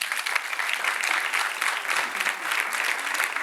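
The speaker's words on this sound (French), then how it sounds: "Vous pouvez les applaudir," An indoor audience at a French training-college event claps steadily, a dense, sustained round of applause filling the whole stretch.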